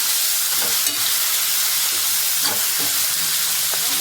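Curry leaves sizzle in hot oil with a dense, close crackling hiss, and a few stirring scrapes and taps come through along the way. No voices.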